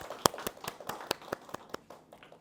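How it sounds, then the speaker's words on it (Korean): A small audience at a 2024 Korean research ethics forum gives sparse, scattered applause to welcome a guest, about a dozen distinct claps over a couple of seconds that thin out toward the end, with no speech. "큰 박수 부탁드립니다"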